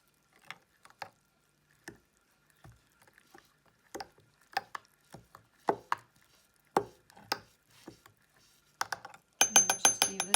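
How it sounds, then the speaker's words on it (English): A spoon stirs sugar into sea buckthorn berries in a jar, with a run of close, sharp clinks and taps scattered irregularly and ending in a brisk, rapid rattle of metal against glass. "In goes 2 spoons of sugar. There we go, stir it around."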